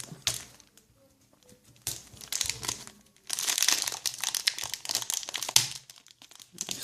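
Crinkly plastic foil of a Pokémon booster pack being torn open and crumpled up close, bursts of sharp rustling and tearing, with short pauses between them.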